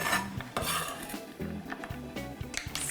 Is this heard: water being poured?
no